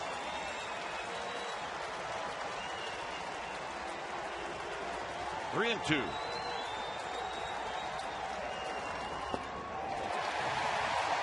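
Baseball crowd at a Reds vs Giants game in Cincinnati, a steady broad roar of cheering and applause throughout, swelling near the end, with a commentator's voice speaking over it.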